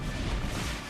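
A continuous, muffled barrage of blasts and rumbling fire from a machine enemy attacking the player in Horizon Zero Dawn, dense and steady for a brief moment.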